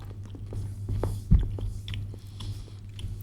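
Crunchy bean-to-bar chocolate is bitten once with a sharp crack, then chewed in soft, close crunches over a steady low background hum.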